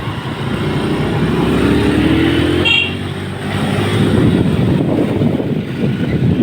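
Cars and motorcycles rush past on a busy city street, a loud passing engine sweep followed by a short horn toot, then more traffic roar continuing close by.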